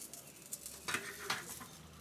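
Vegetables sizzle in hot oil in a hotel-room pan while a Bengali vegetable khichuri meal and fried eggplant are made, a soft steady crackle with a few light scraping stirs, close and quiet, no talk.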